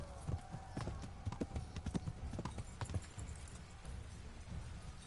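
A horse gallops in Kingdom Come: Deliverance with quick, rhythmic hoofbeats at a fairly low level, along with faint clinks from the tack.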